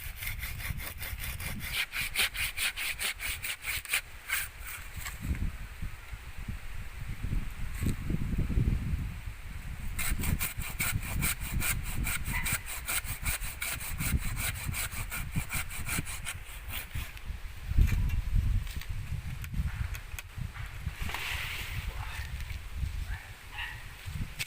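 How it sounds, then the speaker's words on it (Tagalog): Steady back-and-forth strokes of a hand saw cut through a lanzones tree branch, close and continuous, with rough rasping rhythm and faint outdoor rustle, no talking. "Lagariin natin ito guys."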